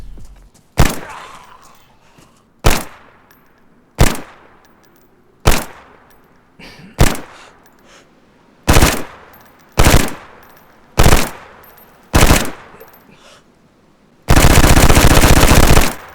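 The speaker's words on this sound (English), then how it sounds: "the FAMAS appears to fire faster than other weapons in DayZ" Ten sharp, loud gunshot bursts from a FAMAS rifle in the video game DayZ fire at roughly even intervals, followed by a sustained burst of rapid automatic fire, with no talking.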